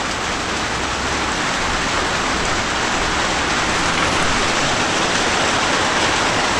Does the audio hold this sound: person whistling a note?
no